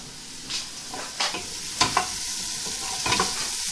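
Onions soften and brown in a pan for an aubergine and potato curry, giving a steady close sizzle punctuated by several scraping stirs at irregular intervals.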